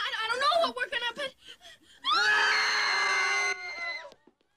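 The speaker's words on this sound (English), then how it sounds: "they look at each other and they scream, and then they stop and they look at each other and scream again" Characters in a zombie horror comedy film let out a long, loud, sustained scream together after a burst of frantic vocal cries, then stop abruptly.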